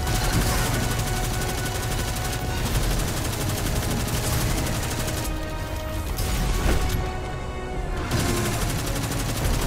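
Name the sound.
Nova Bomb explosions in the video game Destiny 2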